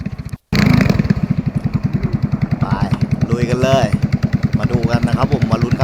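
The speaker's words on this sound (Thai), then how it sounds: "ก็ติดเครื่องแล้วนะครับผม" A small shrimp-fishing boat's engine at sea fires up after a brief silence and settles into a loud, steady chugging idle, with someone talking over it.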